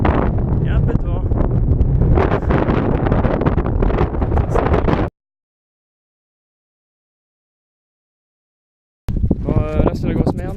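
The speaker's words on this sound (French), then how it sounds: "Il y a un peu de vent." Heavy wind on a mountain trail in Corsica buffets the microphone in loud, rumbling gusts, drops out to silence for a few seconds, then returns with a voice talking over it.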